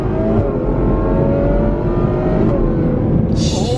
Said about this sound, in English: Oh, a little V12 pull.